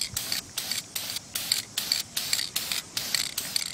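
Spray paint hissing from an aerosol can onto an airsoft gun in short, regular bursts of about a quarter second each, roughly a dozen close bursts with brief gaps between them.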